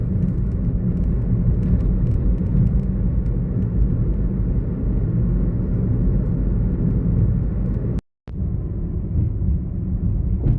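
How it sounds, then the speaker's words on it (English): A car cruises on a Colombian motorway at about 120 km/h, giving a steady, loud low rumble of road and wind noise that carries on unbroken apart from one brief dropout near the end. "On the motorway, look."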